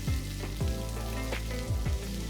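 Garlic, ginger and onions frying in a pan over a medium flame, a steady close sizzle with a few brief clinks or scrapes of stirring.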